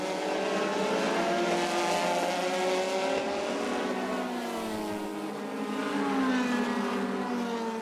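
Le Mans Series prototype race cars, including a Courage LC70 Mugen, howl past at Spa in the 2006 season, with several high-pitched engine notes rising and falling as cars pass in succession, loud and sustained.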